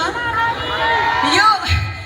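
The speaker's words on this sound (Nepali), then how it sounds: "एकपटक जोरदार ताली मालतीको लागि" A crowd at a live stage show in Itahari cheers and whoops for a performer named Malati, loud shouting and whistling voices layered over one another, close and continuous for a couple of seconds.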